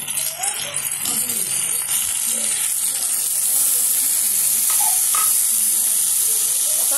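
Two tomatoes dropped into a hot pan for tomato rasam, a loud steady hissing sizzle that holds throughout and builds slightly, with faint bits of voice underneath.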